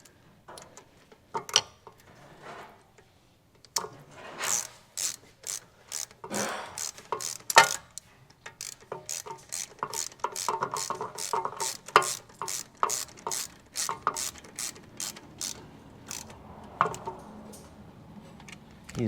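A ratchet clicks in rapid, evenly spaced bursts as it tightens the wheel speed sensor bolt on a Mercedes ML350, the sharp ticks close and fairly quiet with brief pauses between runs.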